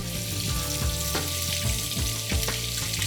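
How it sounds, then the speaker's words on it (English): Spiced eggs frying in oil over a low flame, a dense continuous sizzle, close and steady, over a sustained musical drone, with no talking. "Now let's fry the eggs, which were spiced up earlier."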